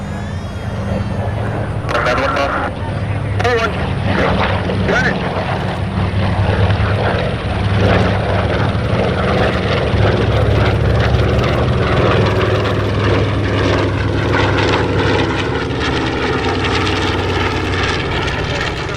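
A World War II warbird propeller aircraft at the Terre Haute airshow drones loudly and steadily with a continuous engine roar and a prop buzz, close by and sustained for the whole stretch.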